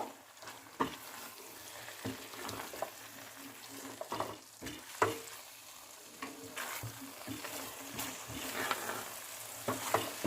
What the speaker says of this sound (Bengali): আর দিয়ে দেব ঘি। মিশিয়ে নেব।